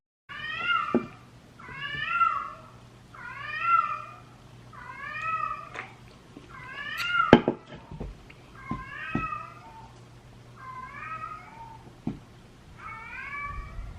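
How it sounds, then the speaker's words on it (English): A house cat meows insistently again and again, about eight loud, wavering cries in a row, close by, with faint knocks and thuds between some of them. "there goes my cat screaming"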